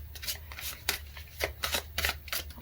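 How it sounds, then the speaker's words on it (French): Cards being handled and drawn from a deck during a card reading, a quick series of soft papery slides and flicks at close range with no voice. "je prends encore une carte pour le groupe numéro 1"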